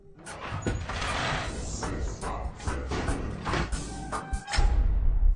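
Doors and windows of a house are pushed shut one after another in a scene from the 2007 film I Am Legend, a run of sliding rumbles and solid thuds over a steady background rush.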